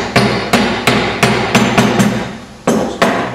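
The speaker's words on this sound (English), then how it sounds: "Take your hammer, just tap it in." A hammer tapping black neoprene bushes into a tube: about nine sharp, ringing metallic knocks at an uneven steady pace, close and loud, with no talking.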